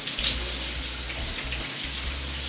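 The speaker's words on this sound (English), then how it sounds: "I ran some water back through it" Tap water runs steadily through curly hair being rinsed during a wash-and-go styling routine, a continuous broadband splashing hiss with no talk over it.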